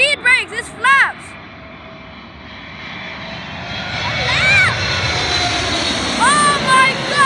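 A Boeing 777's engines roar loudly overhead as it lands at Melbourne International Airport, the rumble building and lingering while excited voices talk over it.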